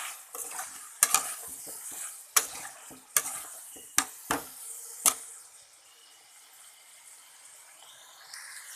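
Drumsticks and potatoes with turmeric, chili, cumin and coriander powders being stir-fried in a pan, with a run of sharp spoon scrapes and clanks over a soft sizzle that fades to a quiet simmer.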